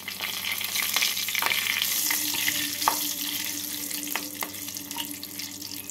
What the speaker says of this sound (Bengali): এবার এই তেল আর ঘিয়ের মধ্যে দিয়ে দিচ্ছি ফোড়ন